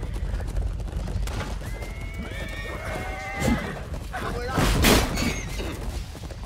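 In the medieval battle game Chivalry 2, a horse lets out a long wavering whinny amid battlefield din, followed by sharp impact crashes and clatter, with a voice talking over parts of it.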